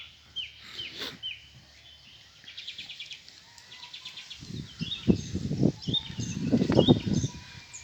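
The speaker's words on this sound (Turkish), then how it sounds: "Şu anda kuşlar ötüyor." Birds chirp and trill outdoors in Toprak Langoz nature park in Karasu, Turkey, some distant and some closer, with scattered rustling and low knocks beneath the calls.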